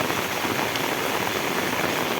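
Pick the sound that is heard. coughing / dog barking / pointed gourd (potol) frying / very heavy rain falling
very heavy rain falling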